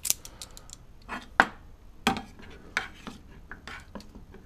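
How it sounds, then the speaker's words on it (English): A milk and vinegar mixture for making galalith is stirred in a container, with scattered sharp clinks and scrapes of the utensil against the sides and a few louder knocks. "Stir, stir, stir."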